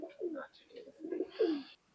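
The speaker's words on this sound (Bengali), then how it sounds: "কবুতর জোড়াটা ব্রিডিং করতেছে," A breeding pair of Teddy pigeons coo softly nearby, a few low throaty rolling calls in quick succession with a short pause between.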